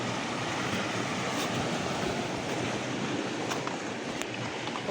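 Steady ocean surf washing onto a rocky western shoreline, a continuous loud broadband roar with wind buffeting the microphone and no voices.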